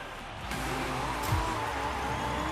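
Fortnite car body driving in-game, a steady engine drone with broadband road noise, a brief tire squeal or skid near the middle, no talking.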